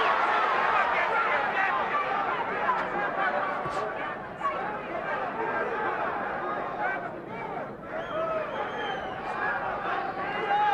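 Dense crowd murmur fills a large indoor arena, a steady roar of many voices with scattered shouts, continuous and moderately loud.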